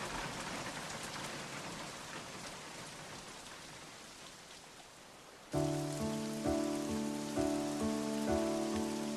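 Steady rain patters densely and evenly for about five seconds, loud and close, then fades beneath a sudden swell of tonal music that carries the rest of the clip.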